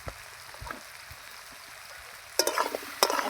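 Pieces of shola kachu (taro) fry in oil seasoned with salt and turmeric, a soft low crackle broken by bursts of louder sizzling and stirring near the end.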